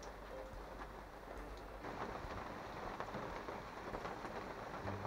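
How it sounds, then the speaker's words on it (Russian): Steady rain falls on the ground outdoors, with low rumbling thunder rolling in from a distance, both continuous and fairly faint. "Натурально идет дождь, гремит гром"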